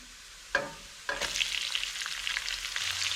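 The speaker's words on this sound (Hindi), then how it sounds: "तो 1 अदद कटा हुआ प्याज है मेरे पास," Chopped onion hits hot oil in a pan and bursts into a loud sizzle, then keeps frying steadily with stirring close by, with no talking.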